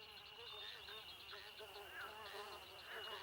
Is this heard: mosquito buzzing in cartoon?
yes